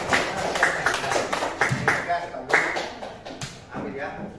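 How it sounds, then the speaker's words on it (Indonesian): A classroom of students claps for a group's presentation, loose uneven handclaps with distinct sharp hits close by, mixed with shuffling and background voices. "Luar biasa, tepuk tangan buat."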